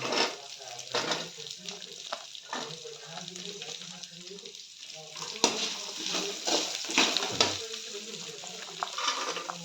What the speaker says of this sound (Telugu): ఇది ఎత్తి ఎర్రగడ్డలు బాగా వేయించుకోవాలి